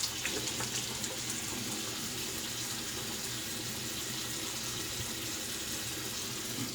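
A tap runs steadily into a sink while a razor is rinsed after shaving, a continuous close splashing gush with no voices.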